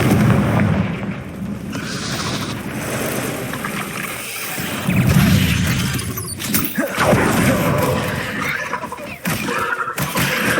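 Confringo fire spell in Hogwarts Legacy blasting repeatedly, loud rumbling booms and whooshing bursts rolling into one another with barely a pause.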